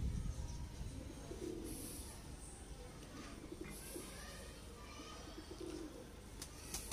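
Soft, low coos from a dub pigeon repeat steadily, close by, beneath a voice talking.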